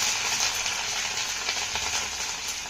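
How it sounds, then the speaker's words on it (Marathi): Grated ginger and garlic cloves sizzle in hot oil in a pan, a loud steady hiss with faint clicks of stirring, no talking. "आता हे अर्धा मिनिट आपण तेलामध्ये चांगलं परतून घ्यायचं आहे"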